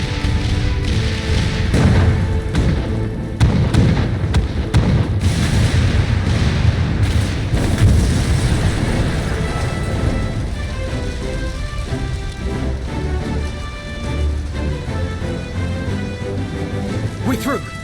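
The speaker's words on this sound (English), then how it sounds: "All cannons resume firing!" Cannons fire repeatedly in a Final Fantasy XIV Stormblood battle scene, heavy booms and thuds layered over dense orchestral music and battle noise, loud and continuous with voices shouting over the din.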